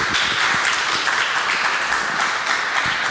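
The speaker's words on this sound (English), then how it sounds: "give a round of applause for Evan." Audience applause at a Bitcoin conference main stage in Taipei, a steady dense wash of clapping from a crowd, moderately loud and continuous for a few seconds with no talk over it.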